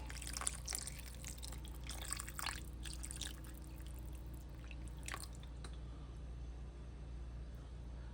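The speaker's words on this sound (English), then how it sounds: "Now we're gonna hit it with some white vinegar." White vinegar poured over chopped-up turkey neck bones, a faint liquid splashing and dripping spread through the first six seconds over a steady low rumble, then only the background hum.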